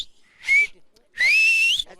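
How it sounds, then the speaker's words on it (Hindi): Loud finger whistling used as a rescue signal during a flood rescue in Dharali, two shrill blasts: a short one, then a longer one rising in pitch, with quiet gaps between them. "हम लोग हाथ से सीटी बजाते हैं।"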